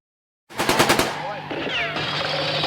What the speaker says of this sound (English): Hey, they're shooting back.